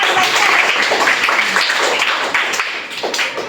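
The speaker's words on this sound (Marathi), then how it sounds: "याच्यासाठी परत एकदा टाळा" A group at a primary school quiz contest bursts into applause, many hands clapping together in a dense, sustained patter that gradually eases off.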